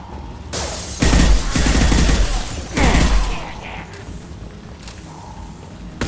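Gunfire in the video game Mass Effect 2, a loud burst of rapid shots and booms in two bursts, then quieter mechanical clatter, no talk.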